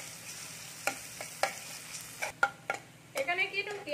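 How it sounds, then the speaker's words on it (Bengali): Sliced onions and green chillies frying lightly in a pan, a soft steady sizzle with sharp scrapes and clinks of a spatula stirring at intervals, close by. "একটু পেঁয়াজটা আমি ভেজে নিচ্ছি হালকা।"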